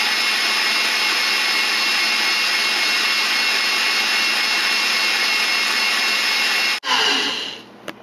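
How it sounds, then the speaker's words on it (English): An electric mixer whirs at high speed whipping egg whites with sugar, a steady bright whine that cuts out abruptly near the end, followed by a brief lower spin-down. "Let the egg whites mix for a little bit first."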